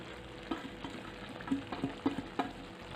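Onion and potato curry with red chilli, coriander-cumin powder and fresh coriander is stirred in a pan, soft sizzling under a few quiet scraping clicks of the spoon, close and faint.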